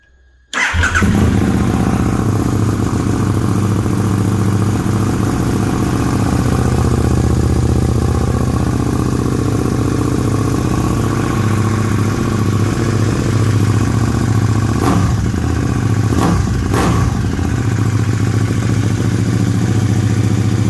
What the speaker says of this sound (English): this is the first time I'm starting this bike up with this new Austin Racing exhaust